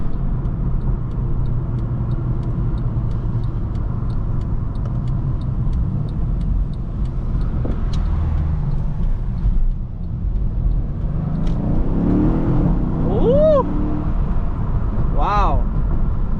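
A Mercedes E63 S AMG (W212) 5.5-litre biturbo V8 roars as it accelerates, a loud deep rumble swelling and rising in pitch, with a person talking over parts of it.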